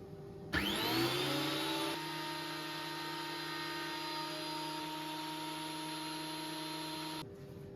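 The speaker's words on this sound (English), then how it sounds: "putting it back through the thicknesser until we've got two parallel sides" A thickness planer machines a rough wooden board that is glued to a sled, starting abruptly with a loud rising whine, then holding a steady droning hum for several seconds before cutting off sharply.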